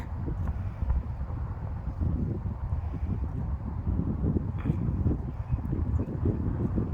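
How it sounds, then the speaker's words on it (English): Low, rumbling wind buffets the microphone continuously in an old cemetery in Linglestown, Pennsylvania, a dense blustery roar that stays fairly steady throughout. "Sorry about the wind."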